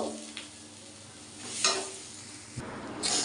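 Pieces of taro corm frying in a pan with masala, a soft steady sizzle broken by a few brief scraping stirs of a spatula, with no talking.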